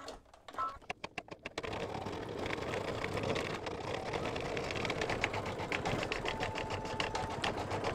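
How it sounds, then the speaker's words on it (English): Steady high-speed stitching of an embroidery sewing machine stippling a quilted mug rug, a fast continuous mechanical whir and rattle that follows a few brief clicks at the start. "now I'm going to do the stippling"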